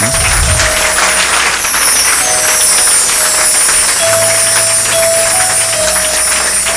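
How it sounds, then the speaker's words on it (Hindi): A church congregation claps during a prayer service, a dense, loud, continuous wash of applause filling the whole stretch, with a few sustained tones and low hum underneath. "आपकी ताली में आवाज कम है।"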